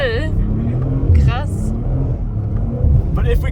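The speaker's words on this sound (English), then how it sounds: "All-wheel drive drifting in the snow is just honestly one of my favorite things to do" An Audi RS4 B9 with all-wheel drive drifts through snow, its engine a low rumbling drone under someone talking excitedly over it from inside the car.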